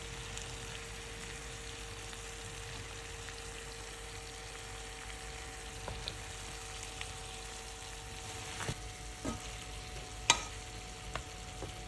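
Beef kala bhuna, a Bangladeshi dish, frying in a pan: a soft, steady sizzle with a few small clicks and taps from stirring.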